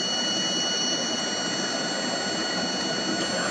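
A vibratory stress relief machine runs at just over a thousand rpm, giving a steady, unbroken mechanical drone with a thin high whine on top and no voices.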